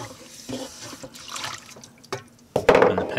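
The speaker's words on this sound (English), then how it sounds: "Fill it up with hot water." Hot water runs from a tap into an Omnia stovetop baking pan to loosen melted cinnamon roll icing, a close splashing pour that grows louder and fuller toward the end, with no voices.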